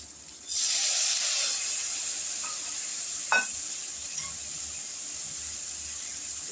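Vegetables sizzle and hiss loudly in a hot pan of fried onion and garlic, a steady close-up frying noise starting abruptly as they go in, with a few faint clinks of a utensil partway through.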